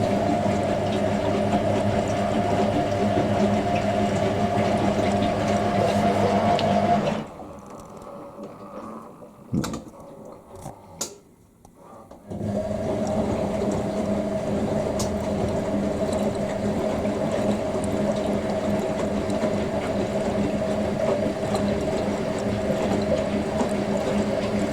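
A Hoover A3060 Electronic 1100 washing machine runs a wash with a steady mechanical whir and sloshing water, pauses for a few seconds with faint clicks, then resumes the continuous churning hum.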